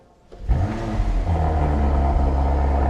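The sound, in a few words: Audi RS5 engine revving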